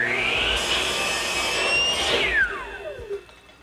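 Power miter saw cutting the mitered corner of window trim for a garden shed: a loud, close motor whine holds steady while the blade cuts, then winds down in falling pitch as it stops.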